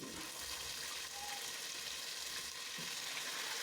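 Boiled beef fries in spiced oil for Kenyan Swahili beef pilau, giving a continuous, even sizzling hiss that stays faint and unbroken throughout.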